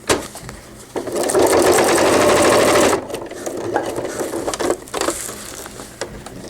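Home sewing machine stitching a cloth diaper cover with gussets, a loud fast run of stitching for about two seconds, then short stop-start bursts and clicks as the fabric is turned.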